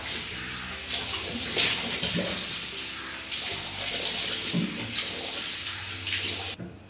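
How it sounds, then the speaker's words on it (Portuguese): Tap water runs steadily into a sink as a face is rinsed, with bursts of splashing as hands scoop and pour water; continuous and close, no talking. "Agora é só enxaguar com água abundante."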